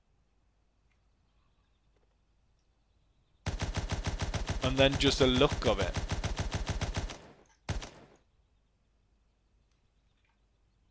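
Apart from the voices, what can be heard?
Fedorov machine gun firing in a WW1 video game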